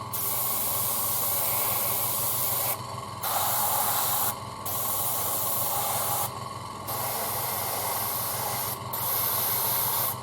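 Airbrush spray painting a 1:35 Trumpeter KV-1 model tank: a steady close hiss of sprayed paint that runs in long bursts, with four short pauses between passes and no talk.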